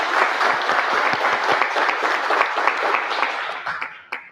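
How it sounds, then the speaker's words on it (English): Audience applause at a California pizza contest, a dense burst of clapping that holds steady and then thins out, ending with a few last isolated claps. "have a nice round of applause for Glenn Cebulski"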